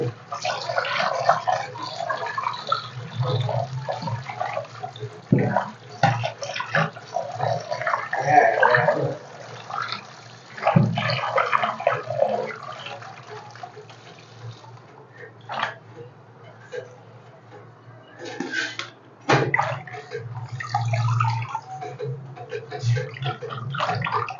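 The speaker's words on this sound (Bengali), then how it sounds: "এগুলাকে অনেক পরিষ্কার করে ধোয়া লাগে" Kharkon leaves are washed by hand in water. Close splashing and swishing comes and goes in bursts, with drips and brief lulls between handfuls.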